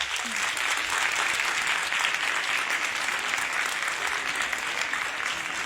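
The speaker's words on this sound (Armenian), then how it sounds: "նախ ուզում եմ բարձր ծափահարենք մշտապես հոգատար, բայց երբեք չհանձնվող մեր հայ մայրերի տեսակին" Sustained applause from an audience at an award ceremony, dense and even clapping that fills the whole stretch at a steady, moderately loud level.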